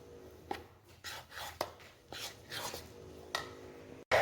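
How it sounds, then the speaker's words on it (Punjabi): Gram flour is stirred into a shredded cabbage mixture in a bowl, with soft scraping, rubbing strokes coming in irregular bursts about every half second, fairly quiet and close, ending in a sharp knock. "ਹੁਣ ਇਸ ਨੂੰ ਐਡ ਕਰਾਂਗੇ ਇਸ ਵਿੱਚ ਤੇ ਇਸ ਨੂੰ ਚੰਗੀ ਤਰ੍ਹਾਂ ਮਿਕਸ ਕਰਾਂਗੇ"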